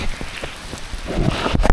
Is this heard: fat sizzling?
no